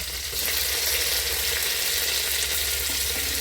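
Crushed onion, curry leaves and green chilli fry in hot oil, giving a steady, dense sizzle with fine crackle that holds at an even level throughout, close up, with no talking.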